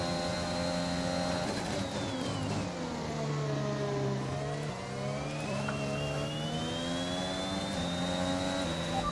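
A Formula 1 car engine roars in the F1 2021 racing game during the Austrian Grand Prix, its loud, steady high-pitched whine gliding down and back up through gear changes and speed, with no one speaking.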